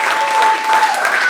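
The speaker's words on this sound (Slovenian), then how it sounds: "Zdaj pa dajmo en aplavz za zadnjo" Audience applause at a comedy roast battle show, a steady dense wash of clapping filling the whole moment, with some voices audible under it.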